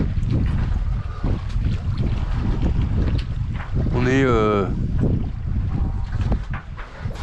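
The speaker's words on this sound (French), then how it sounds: "Enfin, un moteur qui marche." A sailboat's engine running with a steady low rumble under heavy wind buffeting on the microphone, while people talk nearby and a voice briefly rises in a wavering tone.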